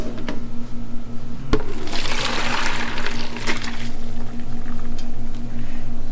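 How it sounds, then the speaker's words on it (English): Cooked noodles and hot water pour into a colander, a loud continuous gushing and splashing that builds and then tapers to trickling and dripping, with a steady low hum behind it. "I'm gonna pour this into a colander."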